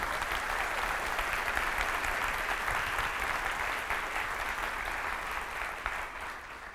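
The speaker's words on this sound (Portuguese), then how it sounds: "Olha, ser para aplaudir tem que ser mais forte." A church congregation claps together in steady, sustained applause, a dense and even patter that slowly tapers off toward the end.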